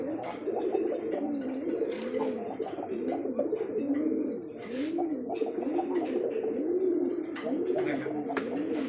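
Several pigeons cooing continuously in overlapping, rolling calls, close by, with a brief lull midway.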